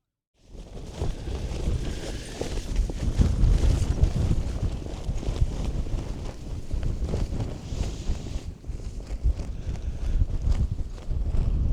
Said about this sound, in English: very noisy, a lot of wind all night